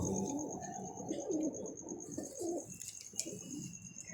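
Pigeons coo in a low, rolling, repeated pattern close by, several calls overlapping across a few seconds with faint chirps and a steady high background tone.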